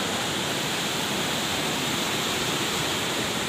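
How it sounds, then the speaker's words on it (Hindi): Water flows through the filter of a hydel channel in a loud, constant rushing roar that stays unbroken throughout. "मेन पानी यहाँ से सप्लाई हो रहा है अभी"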